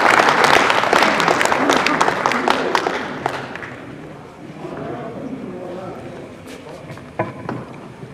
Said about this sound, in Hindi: जोरदार तालियों से श्री दिनेश शर्मा जी का।